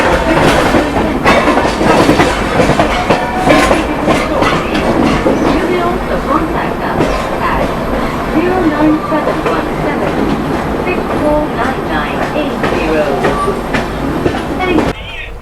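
Inside the AC chair car of the Delhi to Dehradun Shatabdi Express on an early-morning run, a loud, steady rumble of the moving train carries rhythmic clickety-clack of the wheels, with cabin noise and occasional voices in the background.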